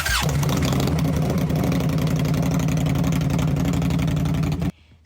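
An Indian motorcycle engine idles loudly and close before a ride, a steady throbbing rumble that cuts off abruptly near the end.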